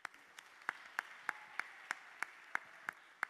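Sparse, evenly spaced claps ring out one at a time at a family church service, over a faint background hum, steady and fairly quiet.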